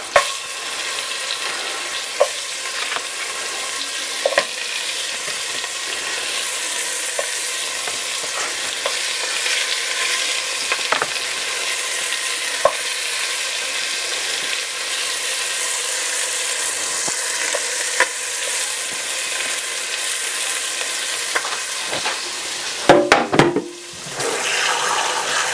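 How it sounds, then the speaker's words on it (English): Pork bones browning in avocado oil in a pan give a steady, loud sizzle that runs throughout, with scattered sharper pops and a brief clatter near the end. "don't forget to brown the bones"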